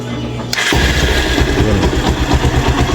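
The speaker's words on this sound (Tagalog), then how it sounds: "issue nito mga boss, Roser 180 ay maingay yung makina." A noisy Rouser 180 motorcycle engine, said to backfire, starts abruptly after a short idle hum and runs loud and close with a rough, rapid rattling beat.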